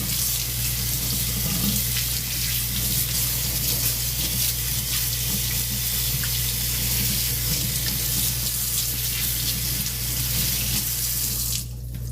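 Water runs steadily from a kitchen tap as sponges are rinsed, a continuous close hiss and splash that lasts throughout and cuts off abruptly near the end, with no talk.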